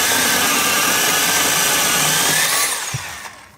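A cordless two-handed Heimerdnger LB192 chainsaw with a 12-inch bar cuts through a tree trunk, giving a loud, steady high-pitched whine that rises slightly toward the end, then winds down as the cut finishes.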